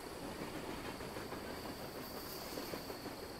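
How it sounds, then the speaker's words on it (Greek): A train rolls past in American Truck Simulator's Texas region, a steady, loud rumble with faint clickety-clack and hiss that holds evenly throughout, with no voices. "Από την παραγωγή στην κατανάλωση κατευθείαν περνάει το τρένο."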